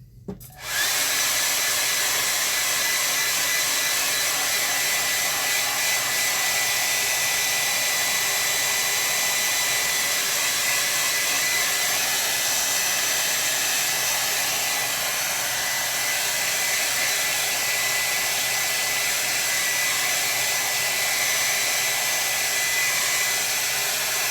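A hair dryer blows over a freshly painted watercolour landscape of distant mountains, switching on abruptly and then holding a loud, steady, close whooshing hiss without a break.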